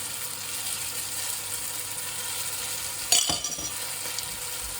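Mango pieces being stirred in a hot pan with coconut-milk curry nearby, a faint continuous sizzle broken by a sharp spoon-on-pan scrape and clatter about three seconds in.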